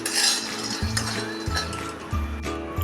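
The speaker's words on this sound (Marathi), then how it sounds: "लो फ्लेमवर हे शेंगदाणे मी खरपूस भाजून घेते" Peanuts dry-roasting in a kadhai over a low flame for a peanut chutney, stirred with a metal spoon that clinks and scrapes against the pan in a steady, close rhythm.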